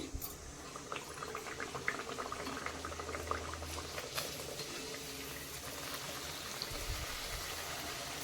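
Mangalore buns deep-frying in hot oil, a steady bubbling sizzle with scattered small pops that carries on without a break, fairly close and moderately loud.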